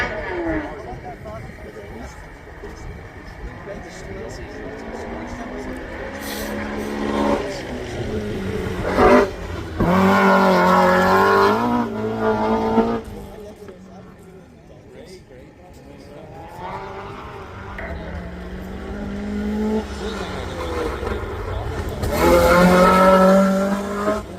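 A hillclimb race car with a slanted engine at Craigantlet, heard in two loud passes, each rising in pitch as it accelerates and revs through gears near the listener, with a commentator talking over the quieter stretches.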